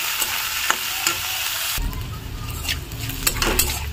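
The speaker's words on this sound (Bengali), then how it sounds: "তারপরে দিয়ে দেবো ক্যাপসিকাম কুচি, তারপরে দিয়ে দেবো গাজর কুচি। এগুলো এবার একটু হালকা করে ভেজে নেব।" Chopped capsicum and carrot fry lightly in a pan for cabbage manchurian, a steady sizzle with spatula scrapes and stirring clicks that swell louder partway through, with no talking.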